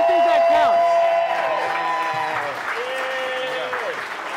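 Studio audience at a late-night game show clapping and cheering for the contestants, a steady wash of applause over voices and some background music.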